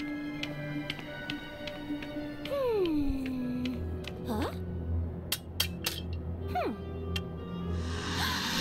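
A cat in the Lego Harry Potter video game meows twice, each a sliding, drawn-out call, over ticking and clinking game sounds.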